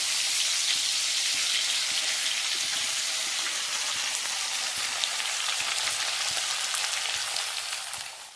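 Garlic, cumin and coriander sizzle steadily in hot oil, a bright, even frying hiss that holds for several seconds and fades slightly at the end.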